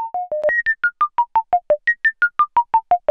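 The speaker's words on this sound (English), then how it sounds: "That's the sound of the VCA" Moog Matriarch synthesizer playing a quick sequence of clean, plucky notes shaped by the VCA envelope, about sixteen evenly spaced tones stepping up and down in a repeating melodic pattern, loud and close with no talking.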